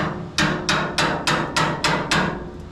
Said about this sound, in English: you basically just hit it with the hammer and blast through all your seams